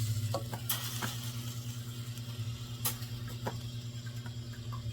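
Faint sizzles and brief crackly hisses pop intermittently over a low steady hum as drips of yarn dye and water land on a hot stove.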